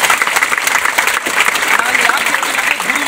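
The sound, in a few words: loud applause for the teachers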